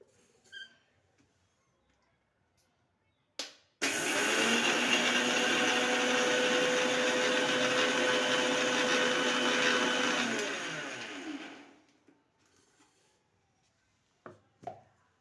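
A mixer grinder whirs loudly for about seven seconds grinding a red chilli masala, then winds down, with quiet clicks and handling noises before and after.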